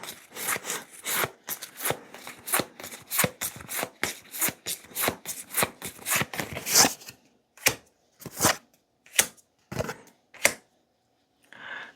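Tarot cards being shuffled, a quick run of crisp riffling flicks that slows into a few separate soft snaps and taps, close and quiet with no talk.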